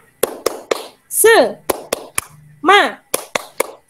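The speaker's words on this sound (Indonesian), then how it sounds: "Ya, tepuk semangat dulu." A class performs a rhythmic spirit-clap routine in sharp, evenly spaced claps, broken by a voice chanting in between.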